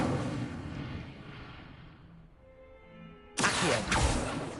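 An Incendio fire spell is cast in the Hogwarts Legacy video game, heard as a rumbling whoosh that fades and is followed by a sudden loud fiery burst near the end.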